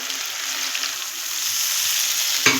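Pointed gourd paste with poppy seed, sesame and mustard sizzles steadily in a pan over medium heat, a continuous close frying hiss with a sharp clatter near the end and no talk.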